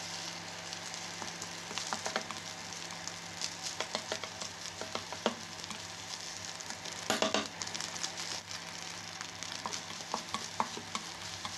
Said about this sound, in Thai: เดี๋ยวเราผัดข้าวตรงนี้ให้สุกก่อนครับ